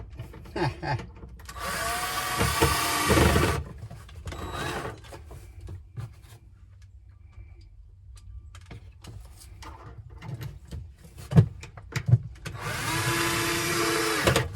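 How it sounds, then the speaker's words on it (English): A power drill whirs in two loud bursts separated by quieter handling noises and a few thumps, drilling while installing a heater in a side-by-side utility vehicle. "make sure I ain't drilling into something I don't need to"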